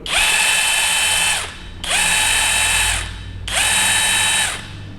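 A ROTAKE RC8805 3/4-inch cordless impact wrench on its first, 750 Nm speed setting whirs in three steady bursts of about a second and a half each, close and loud, with short pauses between.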